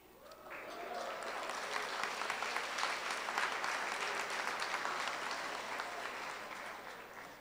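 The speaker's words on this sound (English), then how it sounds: "I know I will at least get one applause when I mention money." An audience at a school honors awards ceremony claps for several seconds, a dense, steady burst of applause that swells in and tapers off slightly at the end.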